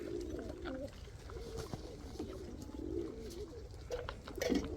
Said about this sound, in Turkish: Burada da 10-100 milyon kuşlarımız var.